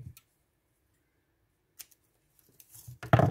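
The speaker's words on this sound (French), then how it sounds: "Donc j'ai coupé un petit bout." Scissors snip a small piece of ribbon during a zero-waste paper craft, heard as a faint early click and then a louder, close burst of snipping and rustling near the end, with no one speaking.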